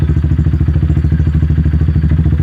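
Motorcycle engine idling close by in a steady rapid putter, the rider working the clutch in and out of the friction zone, with no speech.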